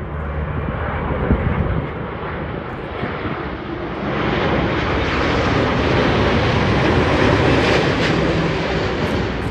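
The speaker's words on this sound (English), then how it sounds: "This is a 787 Xiamen Air arriving from Xiamen MF802." A Xiamen Air Boeing 787 arriving at Sydney Airport, its loud jet engine roar filling the air and swelling slightly as the airliner draws nearer, with no talk.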